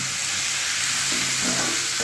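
Turmeric sizzling in hot oil in a pan while being stirred, a steady close frying hiss with soft scraping stir sounds toward the end.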